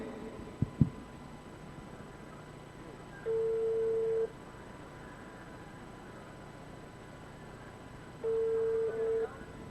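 A telephone ringback tone sounds twice, each about a second long and several seconds apart, over a low hum at a cottage industry fair prize draw in Rangpur, after a couple of clicks at the start.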